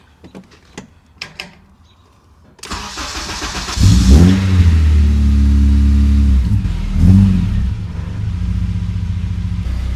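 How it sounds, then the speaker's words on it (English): A few faint clicks, then a rotary car engine cranks and catches, settling into a loud, steady idle with a brief rev partway through. "what I want to do is fire up the engine"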